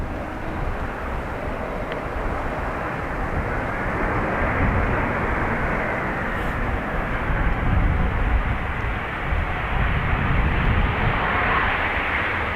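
A Lufthansa airliner from Frankfurt at Dublin Airport produces a loud, continuous broadband jet-engine roar that holds steady and swells slightly over the length, heard alone without talk.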